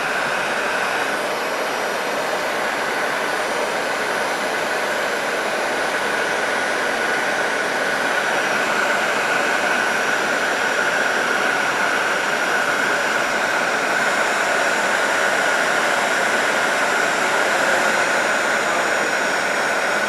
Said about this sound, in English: And we shall set the heat shrink.